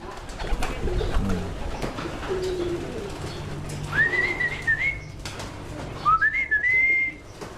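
Pigeons coo over a low background murmur, with a few rising whistled calls standing out near the end.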